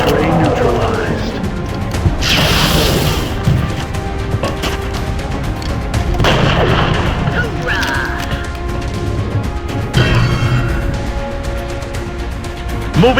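Video game combat sounds dense with gunfire, crashes and impacts, loud and continuous with sharp bursts around the two-, six- and ten-second marks, mixed with voices talking over the action.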